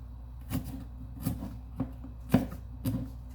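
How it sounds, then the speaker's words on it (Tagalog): A knife slices Baguio green beans crosswise on a board, giving about five soft, evenly spaced chops, quiet and close. "hihiwain po natin itong ating Baguio beans ng pahalang"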